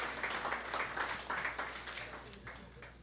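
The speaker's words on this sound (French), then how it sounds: "Une bonne main d'applaudissements," Audience applause after a presentation at a Université de Sherbrooke evening event: a steady, moderately distant patter of many hands clapping, fairly even throughout with no talking over it.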